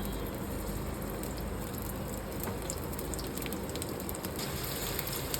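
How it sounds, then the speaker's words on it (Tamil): Okra, or ladies finger, frying in hot oil as it cooks for a tamarind curry: a steady, dense sizzle that stays loud and unbroken throughout, with no voices. "எண்ணெய் சூடாயிடுச்சு இந்த வெண்டைக்காய் இதில் போடுறோம் பாருங்கள்"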